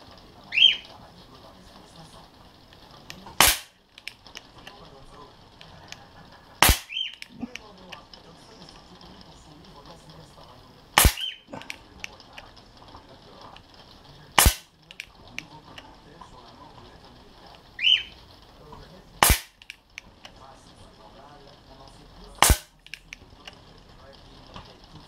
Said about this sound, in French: On a tiré nos 8 premiers coups.